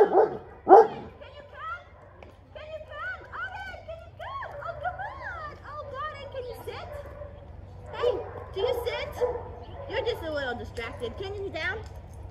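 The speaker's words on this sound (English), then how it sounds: "He likes to bark at people and other dogs." German Shepherd dog barking outdoors on a leash, a couple of sharp barks near the start followed by scattered yips and whimpers, with other dogs and people around.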